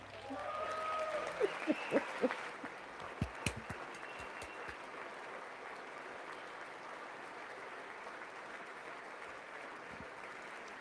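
Scattered applause from a State of the Union address audience, a few sharp claps early on and then a thin, faint patter of clapping that trails off into quiet room tone.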